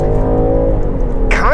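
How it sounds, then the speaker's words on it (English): A Land Rover Defender 110 SE's turbocharged inline-six drones loudly and steadily, held at about 2,600 RPM on brake torque for a launch, with a voice cutting in near the end. "what a beautiful sounding inline 6"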